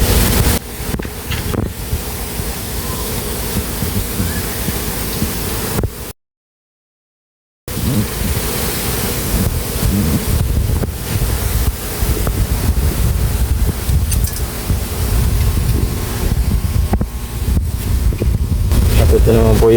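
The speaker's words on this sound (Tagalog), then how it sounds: "kita nyo naman malakas yung buga ng hangin na lumalabas sa mga matala hose na kinabit po namin" A pond aerator pushes air out through hoses attached to a concrete pond, making a steady loud rushing roar with one brief dropout partway through.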